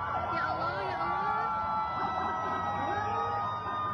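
Several ambulance sirens wail together, their rising and falling tones overlapping over traffic rumble as they rush students to Cililin hospital in Bandung Barat.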